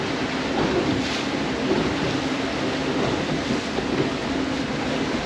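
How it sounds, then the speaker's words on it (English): Choppy waves slap and wash across a windy bay in a steady, dense rushing roar, with wind noise blending into the water sound and no clear breaks. "check how nasty and choppy the bay is today"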